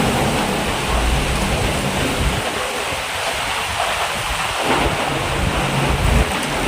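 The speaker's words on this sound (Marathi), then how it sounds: "पाऊस पडवायला लागलेला आहे मस्तपैकी." Heavy monsoon rain pours steadily at Saputara, with low thunder-like rumbling dipping briefly in the middle; a dense, constant wash of sound with no voices.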